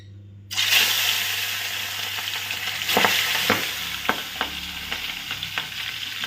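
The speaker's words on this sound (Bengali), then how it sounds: "মাছ দিতে না দিতেই একদম ফাটতে শুরু করে" Singi fish dropped into well-heated oil, starting with a sudden loud sizzle and continuing as close, steady frying with sharp pops and spits of spluttering oil.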